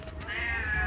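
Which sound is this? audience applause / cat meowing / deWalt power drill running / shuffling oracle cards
cat meowing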